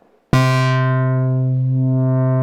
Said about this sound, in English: Let's just listen to all three oscillators and bring them in one at a time.